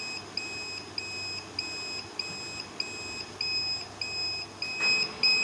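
A 2000 W pure sine wave UPS inverter on overload sounds a sharp, high electronic beep at a steady rhythm of roughly two per second, close and clear over faint background hum.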